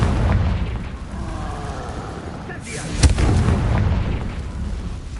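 Confringo blasting spell from Hogwarts Legacy going off as a loud, booming burst with a sharp crack near the middle, set against a dense rumbling game background.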